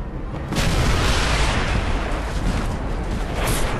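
Heavy cannon fire booms out at approaching Yankee boats in the Call of Juarez: Bound in Blood video game, a sustained loud roar of blasts and rumbling that fills the whole stretch.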